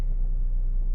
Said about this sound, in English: If you can hear this car kind of rumbling in the background